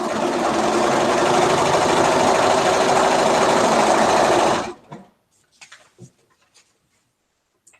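A Bernina sewing machine stitches quilt fabric in a loud, close, fast steady whir that stops abruptly, followed by a few soft handling clicks and taps.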